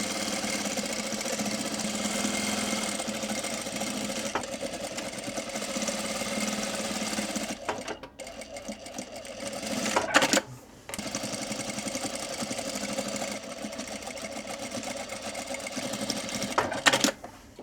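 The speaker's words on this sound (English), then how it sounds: "we're going to run a stitch all the way across this and then down" A sewing machine stitches across the top facing of a pair of shorts, running in a steady, even whir. The stitching pauses briefly partway through, then starts up again and continues, with no talking.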